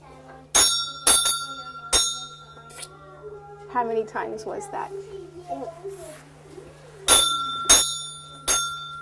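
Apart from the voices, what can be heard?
child playing a pattern on chimes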